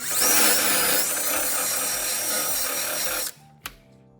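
A wire wheel on a power tool scours metal on a Chrysler Valiant being converted to right-hand drive, a loud continuous grinding whir that cuts off abruptly as the tool spins down, with a sharp clunk after.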